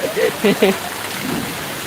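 Steady rain falls outdoors, a constant wash of hiss while a person talks over it.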